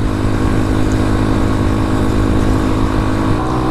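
A Honda Grom motorcycle's small engine drones steadily and loudly while being ridden, with constant rumble and wind noise and no clear rise or drop in revs over the few seconds.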